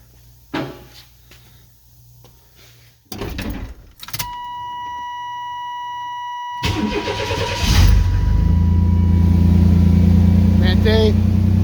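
A car engine cranks and fires after a starter replacement: clicks and short cranking bursts, a steady tone, then the engine catches and settles into a loud idle, with voices nearby.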